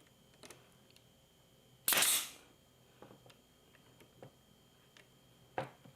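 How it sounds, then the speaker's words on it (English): A brad nailer shooting brads into a wooden drawer: one sharp, loud pneumatic bang near the middle, with fainter clicks and taps before and after in a quiet shop. "I'm gonna shoot some brads in here."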